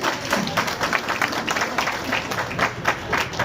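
A crowd at a political party's welcome event in Lucknow claps steadily and loudly throughout, a continuous bright patter of many hands with no break.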